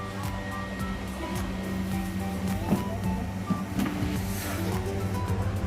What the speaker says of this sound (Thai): พอเราเสียบปลั๊กไฟเสร็จปุ๊บ เครื่องก็จะทำงานอัตโนมัติเลยนะครับ หลอดไฟติดนะครับ พัดลมติดนะครับ